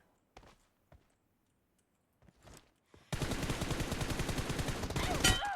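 Rapid automatic gunfire erupts in PUBG Mobile, a dense sustained burst that takes over after a few scattered earlier shots and thumps, loud and close, continuing without pause to the end.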